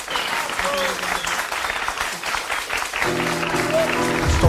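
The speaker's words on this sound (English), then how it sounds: "it's really enhanced by this cheering sound effect looped throughout the instrumental" Crowd cheering and applause sampled from a 1968 track roll on steadily, looped under a music instrumental that comes in partway through.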